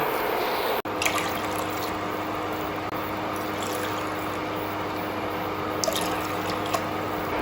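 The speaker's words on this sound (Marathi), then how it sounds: "आता आपल्याला याच वाटीने सात वाटी पाणी याच्यामध्ये घालायचं आहे" Water pours steadily from a bowl into a pan on an induction cooktop while preparing rice-flour kurdai, a continuous trickling splash over a faint electrical hum, with no talking.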